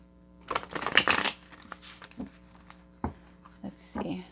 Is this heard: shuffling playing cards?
yes